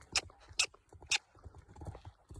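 A tired pony walks slowly on firm ground, its hooves making a soft, irregular clip-clop with a few sharper, louder strikes close by and no voices.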